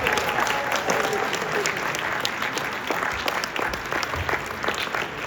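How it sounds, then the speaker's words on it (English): Audience applause fills the hall after a Parkway and Friends community band concert: dense, steady clapping from a large crowd that holds its level for the whole stretch. "How about one more huge round of applause for this Parkway and Friends community band that you have before you."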